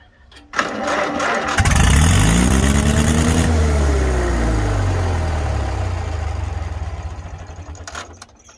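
A 1943 Farmall H tractor engine with a sticking throttle cranks and catches, then runs loud and close, its revs swelling and sagging unevenly before settling lower and fading slightly.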